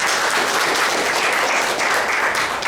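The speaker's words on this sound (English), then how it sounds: "give these people a round of applause" A crowd at an esports teacher panel Q&A gives the speakers a round of applause, a full, even patter of many hands clapping throughout with no talking over it.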